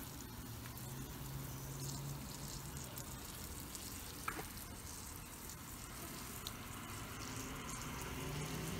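Steady hiss of water spraying and running over wood as wood wash is rinsed off, even and unbroken, with a faint low hum underneath and a couple of small clicks.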